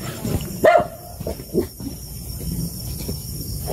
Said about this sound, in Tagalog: Ano yung aso?